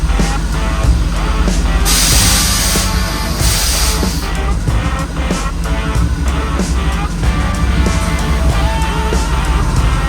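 Spray gun misting a light first coat of paint onto a car engine, a steady loud hiss with brief bursts of stronger spraying over a constant background of noise.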